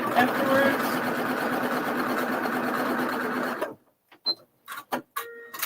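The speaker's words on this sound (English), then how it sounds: "I'm actually done sewing on that." A sewing machine stitches at a steady, fast, loud whir for nearly four seconds, then stops, followed by a few scattered clicks and knocks in a quiet room.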